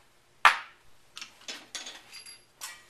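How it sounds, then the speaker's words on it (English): A 4-ounce ball peen hammer drives a 1/8 pin punch against a retaining pin on a solid base, giving one loud sharp metallic strike followed by several lighter taps spaced irregularly. "1/8 pin punch, 4-ounce ball peen hammer, solid base, retaining pins out."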